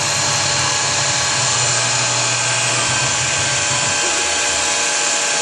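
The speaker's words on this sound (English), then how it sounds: "it's doing what we call a pecking drilling pattern" A steady high-pitched whine with a low rumble that cuts out near the end, continuous and fairly loud, as a CNC vertical mill peck-drills into a wood block.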